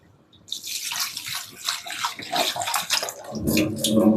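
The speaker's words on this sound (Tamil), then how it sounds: "உப்பு தண்ணி வச்சு நல்லா கழுவி எடுத்தாச்சு" Flattened rice (aval) is washed in salt water by hand, giving close, irregular sloshing and splashing pulses that grow busier toward the end.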